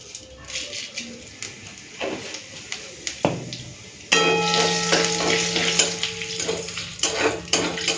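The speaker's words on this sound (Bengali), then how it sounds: "তেল গরম হয়ে গেছে তেজপাতা দিচ্ছি দিয়ে দেবো গোটা জিরে" Bay leaf and whole cumin seeds hit hot oil in a pan, giving a loud, steady sizzle that starts abruptly partway through and continues to the end, with earlier clinks and stirring sounds in the quieter opening.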